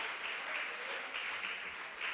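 A church congregation applauds in a continuous, moderately loud wash of clapping that holds steady throughout without distinct individual claps.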